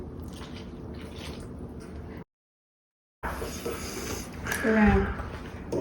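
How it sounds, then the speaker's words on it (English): Pineapple juice glugs from a can into a bowl, a close liquid splash and drip sequence that stops for a moment of silence and then resumes with rising bubbly pouring. "So we're gonna pour our juice in."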